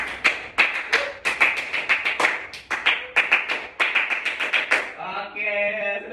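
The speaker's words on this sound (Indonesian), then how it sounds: "Bapak pengen kalian semua tepuk semangat" A class of schoolchildren claps a rhythmic spirit clap in a classroom, loud sharp claps in a quick patterned sequence with brief pauses, ending in a cheer of voices.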